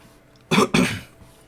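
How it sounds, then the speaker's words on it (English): A single close cough in two quick bursts against a quiet background. "my coughing's really bad today."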